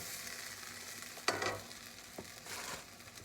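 A tortilla for enchiladas rojas, already dipped in salsa, hits a hot pan with a sudden sizzle that flares and fades, followed by a second softer burst of frying, close and quiet with no talk.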